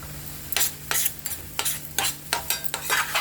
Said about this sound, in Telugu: ఈ పంచదార అంతా కరిగేదాకా మనం కలుపుతూ ఉండాలి, లేకపోతే మాడిపోతుంది